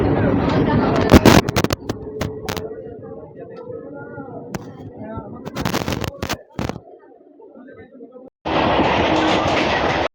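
A MEMU local train on the Rampurhat–Bardhaman line pulls out of Sainthia junction, beside the Mayurakshi river, with a steady rumble and hard metallic bangs and clanks; the noise ends in a loud, broadband roar close by.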